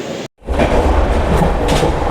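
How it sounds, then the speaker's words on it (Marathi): The Pataliputra Express rolls into Kalyan station as a loud, close rumble of rail wheels and carriages. It starts after a brief dropout and continues steadily with rhythmic clatter, and no clear talk is heard. "आमची ट्रेन आलेली आहे आता, Pataliputra express Kalyan to Nashik"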